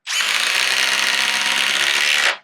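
A 12-volt impact driver sinks a 3 1/8-inch GRK screw into wood in one continuous loud, close, buzzing hammering burst lasting about two seconds, then stops abruptly.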